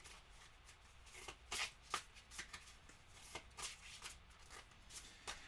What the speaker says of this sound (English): And then we'll go ahead and shuffle up some cards. And these are big honking cards to shuffle.